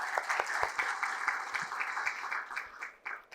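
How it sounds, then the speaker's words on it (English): Audience applause at a gaming conclave inaugural session held in a New Delhi hotel, steady clapping from a crowd with some distinct nearby claps, tapering off toward the end. "One round of applause for our plan."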